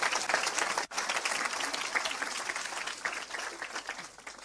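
Church congregation applauding in praise, a steady dense wash of clapping that fills the space with one brief break near the start.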